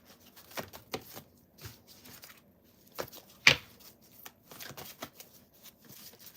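A deck of cards shuffled by hand during a live spiritual reading, with a series of close, crisp riffles and snaps at irregular intervals and one sharper burst midway, separated by quiet gaps.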